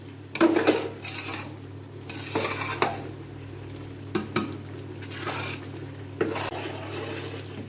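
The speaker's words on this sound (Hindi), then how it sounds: "थोड़ा सा और हम इसका कलर जो है ना वो चेंज करेंगे इसी तरह फ्राई करके" Semolina for suji halwa is fried in a pan with several distinct scraping stirs, and the spoon knocks against the metal now and then over a low, steady sizzle and background hum, with no voices.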